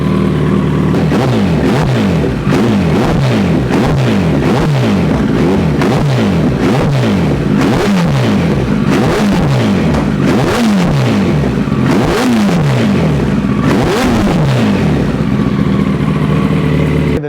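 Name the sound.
Kawasaki ZX14r motorcycle engine revving with Brocks exhaust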